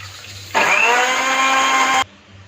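An electric blender grinds chopped onion, garlic and ginger with half a cup of water, a loud steady whir that starts abruptly and runs for about one and a half seconds, then cuts off sharply.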